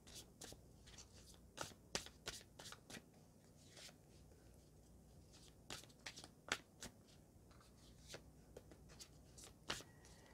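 Tarot cards being shuffled on a table, heard as faint, soft riffling and papery flicks with scattered sharper card snaps over a quiet background.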